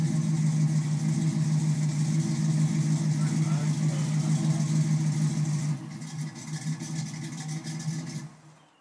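Car engine running loud and close with a steady low idle drone, then cutting off abruptly, leaving quieter background noise and people talking.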